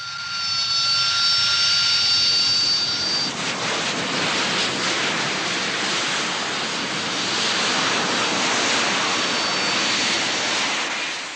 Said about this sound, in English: 8 Harriers land and are camouflaged in only 12 minutes